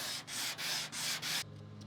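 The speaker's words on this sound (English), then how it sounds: "So I'm gonna flip the sandpaper around so that we have the curvage" Sandpaper scrubs across a farm truck's body panel in four quick, even back-and-forth strokes, close and loud, then stops to leave faint room noise.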